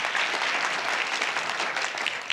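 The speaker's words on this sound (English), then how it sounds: "let's give a round of applause for Steve" A conference audience claps for a speaker in a brief, even burst of applause at moderate volume, with no talking over it.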